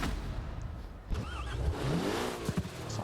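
A modern Porsche sports car engine in Forza Horizon 4 revs up and down, with a steady mid-range drone rising in pitch, moderately loud and without talk.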